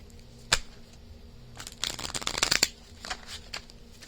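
A deck of tarot cards gets shuffled close up: one sharp snap, then a dense flurry of riffling flicks, followed by a few lighter taps as the cards settle.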